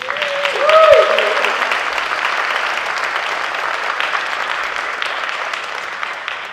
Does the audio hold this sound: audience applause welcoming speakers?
yes